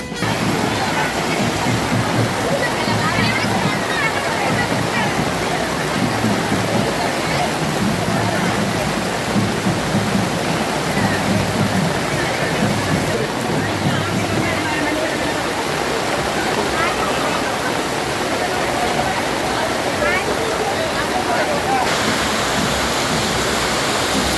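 Heavy rain pours steadily during a children's day rally in Neyyattinkara, a dense, loud, unbroken hiss throughout, with a voice speaking over it.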